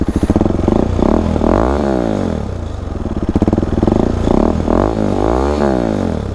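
A KTM RC 390 motorcycle fitted with an Akrapovic exhaust revs up and down repeatedly from close by, a loud throbbing engine note that rises and falls in several pulls.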